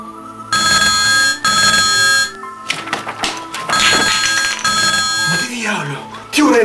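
An old-style telephone rings at three in the morning, with repeated loud bell bursts, each about a second long, separated by short pauses, over background sound and voices.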